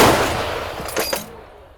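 An artillery gun fires: a loud, booming blast fades into a rumbling decay, followed by a short crackle as the roar dies away; no voices.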